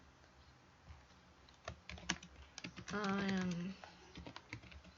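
Someone types on a computer keyboard, producing a quiet patter of separate clicks in bursts over several seconds, while a voice speaks briefly partway through.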